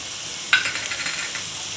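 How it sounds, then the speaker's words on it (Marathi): Onion frying in a pan for eggplant bharit, a soft steady sizzle with a brief clink of a utensil stirring, close and moderately loud without talk. "हे बघा कांदा मंडळी, कांदा आपला अर्धा कच्चा झालेला आहे।"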